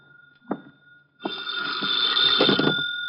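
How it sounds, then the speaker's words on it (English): An office telephone rings in a radio drama, a short burst of ringing, a brief pause, then a longer sustained electric bell ring, clear and close with no talk. "the phone started ringing"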